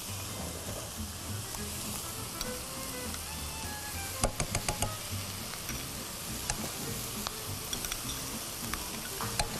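Butter melting in a hot pan while making chicken corn soup, a steady loud sizzle with crackling pops and a burst of sharp ticks midway, no voices.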